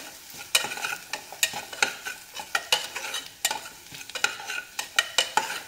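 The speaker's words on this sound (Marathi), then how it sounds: "तिखट पण तेलात छान भाजून घेऊया।" Chilli powder fried in oil with crushed garlic and coconut while being stirred, rhythmic scraping strokes of a spoon against the pan over a soft sizzle, repeated at a steady pace and close up.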